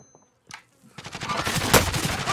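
In Call of Duty Warzone, a rapid automatic burst of gunfire shoots through a wall, loud and close, following a brief quiet moment with a few faint clicks.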